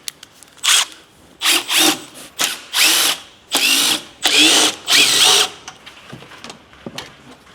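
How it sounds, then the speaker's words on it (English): Impact driver zipping bolts out of a Grenadier panel, about seven loud, close bursts of whirring and hammering, each roughly half a second long, separated by short pauses. "And then I cheat, I use my impacts"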